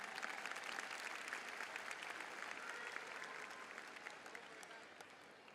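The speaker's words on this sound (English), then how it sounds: "this tremendous level of commitment to service deserves a hearty round of applause" Graduates, families and guests at Pattonville High School's 2024 graduation ceremony clap in a sustained, dense round of applause that stays steady, then gradually softens toward the end.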